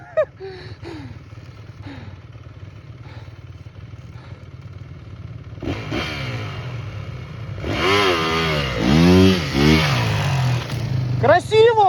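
Small motorbike carrying children, its engine running low at first, then revving harder in rising bursts toward the end while children and adults call out and talk over it.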